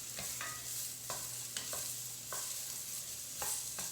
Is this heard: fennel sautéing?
yes